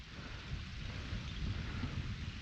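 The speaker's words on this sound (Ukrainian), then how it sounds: "Якраз дощ почався під 11, як і обіцяли" Rain sets in with a low rolling rumble of thunder during a late-winter pike fishing outing, a steady, soft wash of noise with no voices.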